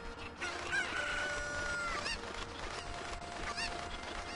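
Cucco chickens in the Ocarina of Time video game, Kakariko Village, letting out loud crowing calls against a dense, steady wash of game background sound.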